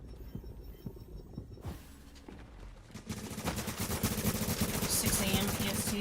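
Gunfire in the shooter game Tom Clancy's The Division comes as dense rapid cracks and thumps, building louder over the second half against a steady game background with some talk.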